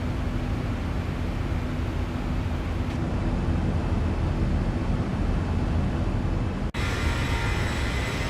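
Boeing 737-800 engines in the X-Plane 11 flight simulator produce a steady, loud broadband roar with a constant hum, unbroken apart from a brief click near the end, with no talk.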